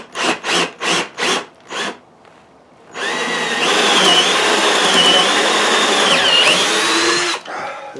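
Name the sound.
drill bits cutting wood for a Sharpie holder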